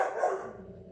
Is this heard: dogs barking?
yes